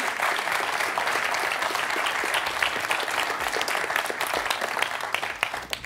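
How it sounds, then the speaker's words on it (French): A studio audience on a French TV quiz show claps steadily, a dense, even wash of applause lasting several seconds with no voices over it. "On peut applaudir Fabienne."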